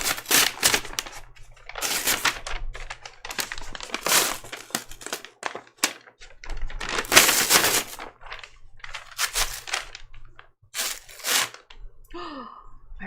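Paper quilt pattern sheets crinkle and rustle loudly as they are handled and folded, in dense close bursts with brief pauses between them.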